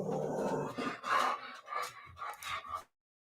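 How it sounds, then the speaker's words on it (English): A dog pants close by in quick, uneven bursts of breathy huffing for a few seconds, then falls silent. "you know that was the dog."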